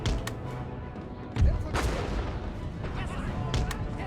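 Musket volleys crack across a battlefield in Empire: Total War, several sharp reports scattered over a few seconds with a heavier boom near the middle, amid ongoing battle noise.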